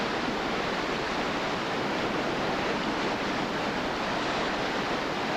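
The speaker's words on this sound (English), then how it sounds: "we are at our last rapid of the day, Fayette Station Rapid" Fayette Station Rapid on the New River roars as a steady, dense wash of whitewater, loud and close, with no pauses or voices.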